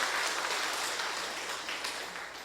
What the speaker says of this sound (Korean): 우리 환영하는 박수 한번 주시고